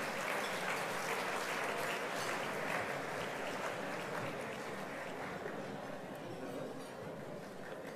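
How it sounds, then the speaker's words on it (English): Audience applause fills a ballroom at a formal ball in Monaco, a steady, dense wash of clapping that stays loud throughout and eases only slightly toward the end. "Let's have a round of applause,"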